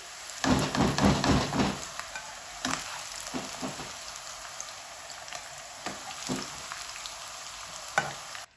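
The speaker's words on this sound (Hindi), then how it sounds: "तेज आंच पे हम इनको फ्राई करेंगे।" Bitter gourd frying on high heat in a pan: a hissing sizzle with bursts of crackling and spatter, heaviest in the first two seconds, then intermittent pops and stirring scrapes over a steady background fizz.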